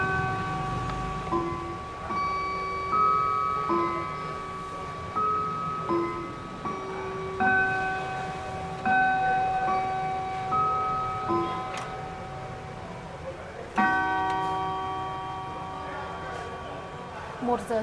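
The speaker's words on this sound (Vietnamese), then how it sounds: "Tiếng chuông rất ấm luôn." A Howard Miller clock with eight bronze gongs rings a warm, sustained melodic chime, overlapping bell tones unfolding in a slow sequence indoors with soft background noise and brief speech.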